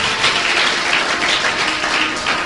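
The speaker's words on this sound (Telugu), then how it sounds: "చప్పట్లు కొడదాం." A congregation at a Telugu Christian sermon claps together, a steady, dense patter of many hands filling the room for a couple of seconds with no voices over it.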